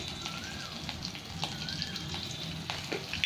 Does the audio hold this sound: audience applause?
no